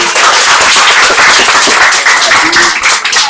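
Applause from an audience at a community anniversary conference, a dense, steady clapping that stays loud and close for the whole stretch without pause.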